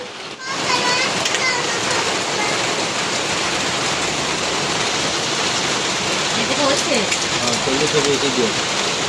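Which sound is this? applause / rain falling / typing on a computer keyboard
rain falling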